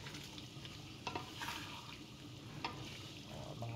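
Chicken skin frying in its own rendered fat in a pan, a steady close sizzle and crackle with a few sharper pops and no talk.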